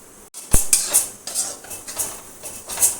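Petha roasting in ghee in a pan for halwa, stirred over medium flame: a sharp utensil knock, then repeated metallic scrapes and clinks of a spoon against the pan over a soft sizzle.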